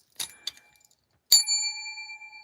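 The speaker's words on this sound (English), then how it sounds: "Bell reward." A small handheld bell rung once as a reward at a crochet-along, a bright metallic ding ringing out and decaying after a couple of faint taps, close and alone.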